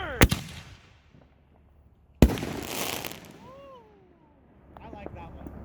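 Two sharp firework launches about two seconds apart, the second followed by a crackling burst and a whistling streak that fades, with distant outdoor ambience after.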